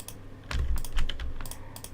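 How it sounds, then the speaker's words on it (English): Keys are pressed on a computer keyboard during 3D modeling work, a short run of close, crisp clicks and taps with a few heavier thumps. "When you want to finish cutting object, hit space on your keyboard."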